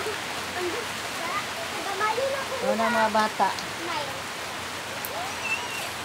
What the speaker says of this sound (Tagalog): Ulan diriya guys, ulan.